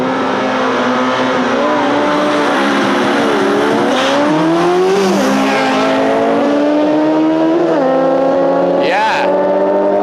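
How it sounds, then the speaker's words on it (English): Car and motorbike street racing at night, engines revving loud and continuous with rising and falling pitch as they shift and pass, plus a sharp burst near the end. "the motorbike and the car try to squeeze in their race before they're busted"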